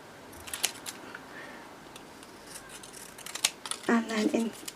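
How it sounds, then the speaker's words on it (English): Scissors snipping through paper to cut out a printed quote for a mixed media craft piece, a few quiet crisp snips spread over the clip with faint background noise and a short burst of voice near the end. "I'm going to cut Let Yourself Bloom,"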